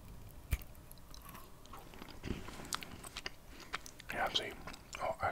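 A chocolate-covered almond bitten in half gives a single sharp crunch near the start, then soft close-up chewing and faint mouth sounds at low volume.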